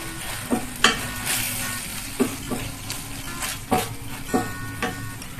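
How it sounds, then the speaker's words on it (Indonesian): Shredded chicken with spices frying in a pan, a steady sizzle broken by repeated scraping stirs of a utensil against the pan, close and clear with no voices. "Dan kita aduk-aduk sampai matang, sampai menyerap bumbunya"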